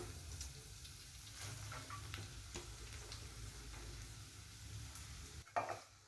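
Chopped papaya stirred and sautéed in a pan for a Kerala-style papaya thoran, with a steady low sizzle under scraping spoon strokes and a sharper clatter near the end.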